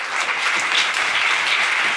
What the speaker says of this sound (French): Et je vous demande de les applaudir bien chaleureusement